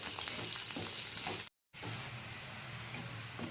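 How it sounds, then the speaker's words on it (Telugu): Grated coconut frying in oil in a pan: a close, steady sizzle and hiss with occasional stirring noises. It cuts to total silence for a moment partway through, then resumes. No one speaks. "అందులోనే కొబ్బరి వేసాను ఇది కొద్దిగా కలర్ వచ్చే వరకు ఫ్రై చేసుకోవాలి ఆయిల్లో"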